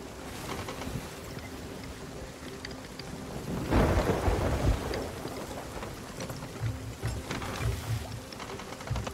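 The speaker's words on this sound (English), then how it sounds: "Now we're actually going in this storm quite smoothly compared to normal." Storm at sea in the video game Sea of Thieves, heavy rain hissing steadily with a deep rumble of thunder swelling near the middle, loud and continuous with no talk.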